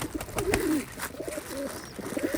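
Old-generation Khulna high-flying pigeons cooing close by, a few rolling, throaty coos in quick succession with brief pauses between, over light rustling.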